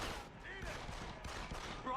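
Shotgun blasts and gunfire in the video game Deus Ex: Human Revolution, played on Wii U, come as loud bursts mixed with the game's sounds and a voice talking over the action.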